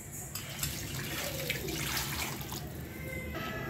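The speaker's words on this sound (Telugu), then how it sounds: "ఇదిగోండి కాస్త నీళ్ళు పోస్తున్నాను." Water poured into a cooking pot for Andhra-style fish pulusu, a continuous splashing gush that runs steadily throughout at moderate level, no talk.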